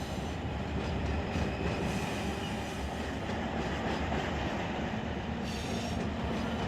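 Freight train rolling steadily in the Run 8 train simulator game on a Southern California line, a continuous loud rumble of wheels and cars with faint clickety-clack and occasional squeal, no talk.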